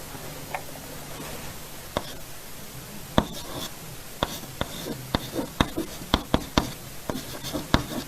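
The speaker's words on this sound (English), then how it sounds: "I will write down 2 sentences" Chalk or marker writing sentences on a classroom board: faint rubbing strokes broken by sharp taps and knocks that bunch together toward the end, heard alone at moderate distance without speech.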